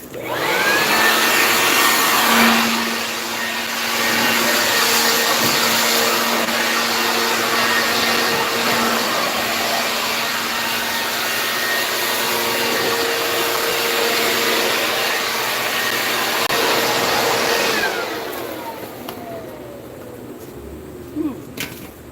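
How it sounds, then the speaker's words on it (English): A small, cheap electric blower roars steadily while clearing a balcony deck, loud and close, holding a constant whine with slight pitch wobbles before it spins down and stops, leaving faint knocks afterward. "This little blower is cheap."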